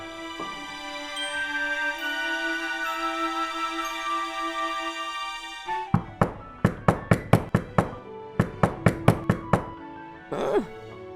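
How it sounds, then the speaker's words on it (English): A door knock in the Pokémon Cardinal video game: after a sustained synthesized chiptune tone, a rapid series of about a dozen sharp, evenly spaced knocks rings out close and loud, followed by one last brief sound. "It sounds like there's someone at the door."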